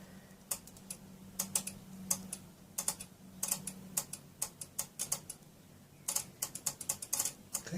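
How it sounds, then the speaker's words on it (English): A relay inside an Onkyo TX-SR605 receiver with a stuck-in-standby fault clicks repeatedly, giving sharp, faint ticks in irregular bursts over a low background hum. "we're hoping we hear a relay click"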